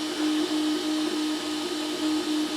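A Creality Ender 3 V3 SE 3D printer running a high-speed print gives off a steady, close mechanical whir with a constant motor tone and faint rhythmic fluctuations throughout, with no voices.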